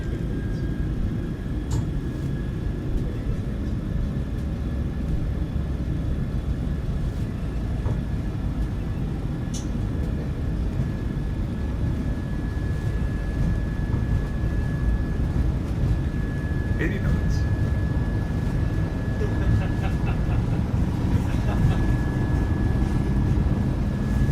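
Boeing 737-600 jet engines at takeoff thrust in the PMDG flight simulator: a steady, loud broadband roar held for the whole stretch, with a faint constant whine above it and occasional brief clicks.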